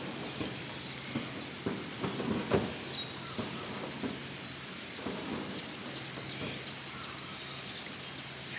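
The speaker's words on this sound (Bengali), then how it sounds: "একটু আগে একটু ঘুরি ঘুরি হয়ে একদম বৃষ্টি শুরু হয়েছে" Rain starting to fall after a sunny morning, a soft patter of drops with several low rumbles of thunder in the first half, faint and distant, plus light bird calls later on.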